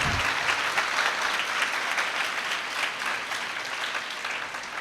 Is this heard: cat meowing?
no